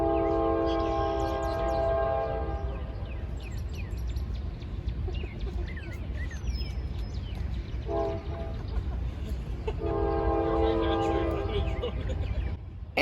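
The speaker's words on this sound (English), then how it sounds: "an unidentified Norfolk Southern southbound mixed freight train going down the Sandusky district" A Norfolk Southern southbound mixed freight train on the Sandusky district in central Ohio rumbles steadily nearby, with long horn blasts at the start and again near the end, birds chirping faintly over the rolling noise.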